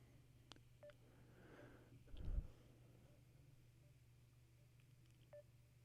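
Telephone dialing tones as a call is placed, brief beeps scattered across the stretch over a steady low line hum, fairly faint with one louder thump near the middle.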